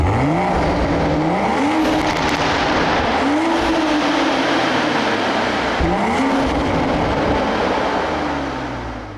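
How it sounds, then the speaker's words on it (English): Sport-mode exhaust from a manual 2023 Toyota Supra roars under hard acceleration, pitch rising through a few gear pulls with sharp drops at each shift, loud and near over road noise, fading slightly at the end. "And now also take a listen to the exhaust note in sport mode."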